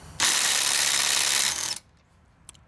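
A Ridgid subcompact brushless impact driver hammers on a car lug nut in one loud, rapid rattling burst of about a second and a half. It then stops abruptly, followed by a faint click.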